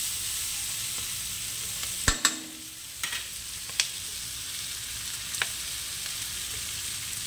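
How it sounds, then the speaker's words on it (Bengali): Sliced onions with salt and turmeric fry in a pan for onion chorchori with small fish, a soft, steady sizzle broken by a few sharp clacks of a spatula stirring against the pan. "এবারে ভালো করে ভেজে নেব, লাল লাল করে ভেজে নেব"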